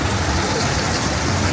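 Steady rain falls at an outdoor hotel pool in Singapore during the wet January season, a dense, even hiss of drops that fills the scene without pause.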